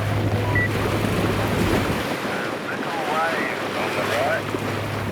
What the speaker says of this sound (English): Little wave on the right.